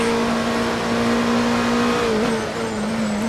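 In a racing video game, a race car's engine holds a high, steady whine at Suzuka, briefly dipping and recovering through a corner before running on, constant and fairly loud.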